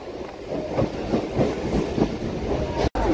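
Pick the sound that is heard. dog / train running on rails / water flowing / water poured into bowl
train running on rails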